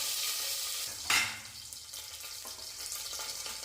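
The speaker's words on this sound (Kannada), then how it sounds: "ಇದೆಲ್ಲ ಲೋ ಫ್ಲೇಮಲ್ಲೇ ಫ್ರೈ ಆಗಕ್ಕೆ ಬಿಡಿ." Bay leaf, cinnamon and cloves fry in ghee in a pressure cooker over a low flame, giving a soft, steady sizzle with a brief louder crackle and stir partway through.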